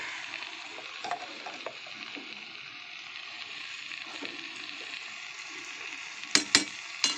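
Ghee spooned into a hot pan for banana-flower curry, crackling in a soft continuous sizzle with scattered pops, followed by a few sharp metallic spoon clinks near the end.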